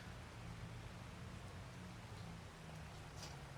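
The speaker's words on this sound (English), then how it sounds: "It's raining." Rain in Farming Simulator 25 on the Alma, Missouri map, a steady, fairly quiet hiss of falling drops with a low rumbling undertone, continuous throughout with no voices.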